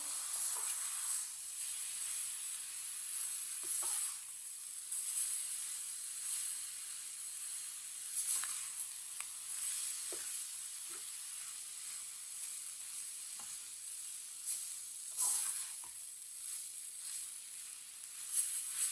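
Semolina roasts in a pan with grated carrots for carrot halwa, giving a soft, continuous hiss and low sizzle with occasional scraping stirs, fairly quiet and close.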